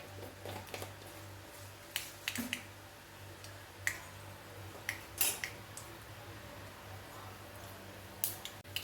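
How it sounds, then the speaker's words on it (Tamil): Mustard seeds splutter in hot oil in a kadai as sharp, scattered pops and crackles over a low steady hum, irregular and fairly faint, with no talking. "கடுகு பொரிஞ்சு வர நேரத்தில்"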